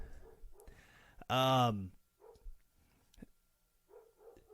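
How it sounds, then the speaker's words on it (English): Pet dogs, stirred up by neighbor dogs, let out one loud, drawn-out bark, with a few fainter yips scattered around while a person talks nearby. "apparently the neighbor dogs have got my dogs upset, and so you're probably hearing them"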